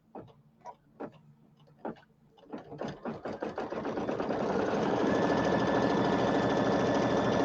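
An embroidery sewing machine stitches fabric held in a hoop, starting with a few separate clunks, then quickening into rapid rhythmic ticking that settles into a steady, loud mechanical whirr.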